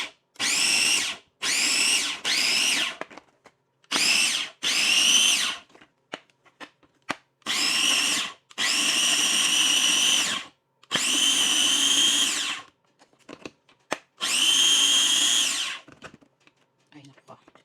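A kitchen grinder chews through food in about eight short, loud motor bursts separated by pauses, with faint clatter and voices between runs.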